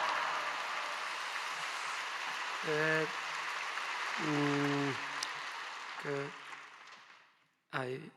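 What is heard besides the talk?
church congregation applause welcoming the pastor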